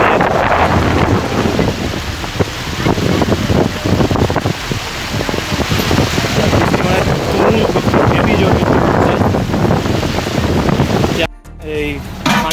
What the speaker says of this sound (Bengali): দেখো কি জোরে বৃষ্টি এসেছে